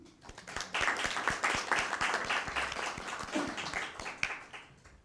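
Children in a school audience at a Christmas Bible quiz give a sustained burst of applause, dense and loud clapping that swells and then fades, with a few voices mixed in.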